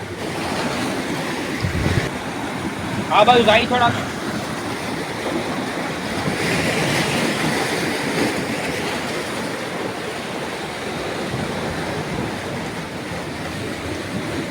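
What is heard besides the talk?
sea waves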